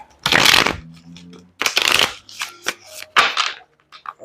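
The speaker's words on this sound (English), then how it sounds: "This is not shuffling right." Tarot cards being shuffled by hand in several bursts of riffling and sliding, with short pauses between and a few quieter taps and shuffles later, close and fairly loud with no talk.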